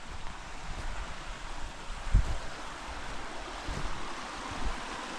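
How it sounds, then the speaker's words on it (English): Steady rushing water of a creek flows nearby, a continuous broadband wash with occasional soft bumps and a little wind noise, no voices. "Oh, this goes down to the creek so I can hear it."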